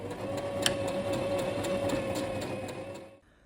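A sewing machine stitches a kimono seam with a steady, close motor whir and a quick regular ticking of the needle, then stops abruptly just before the end.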